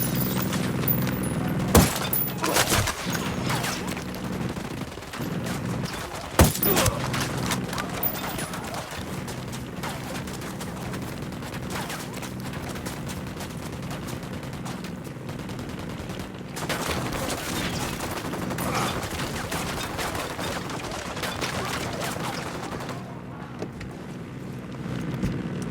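Rapid bursts of automatic and single-shot gunfire in the video game Ghost Recon Wildlands, loud and near, with sharp cracks standing out over a steady roar of battle and wind.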